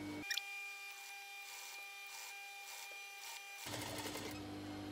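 A sewing machine stitches the armhole of a simple four-rectangle fabric tunic, running as a steady, close mechanical whir for about three seconds before stopping amid light handling noise.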